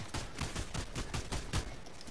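Twin Mag gun fired in Fortnite, a steady rapid stream of close, punchy automatic shots in an even rhythm, about a dozen rounds in quick succession with no talk over them.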